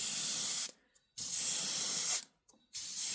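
A compressor-driven airbrush sprayer set to 13 psi applies light coats of clear varnish to a scale model, loud hissing bursts of about a second each with brief silent gaps between them.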